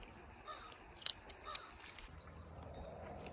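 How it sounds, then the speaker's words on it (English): Crows caw outdoors by a wide, shallow creek: a few short, sharp calls clustered near the middle, fairly distant and faint over a soft background hiss of water and air. "and there's a bunch of crows out there."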